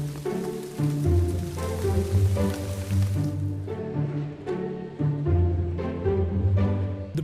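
Steady rain falls at an outdoor car auction, a continuous patter on surfaces with some louder spattering bursts, and no talking.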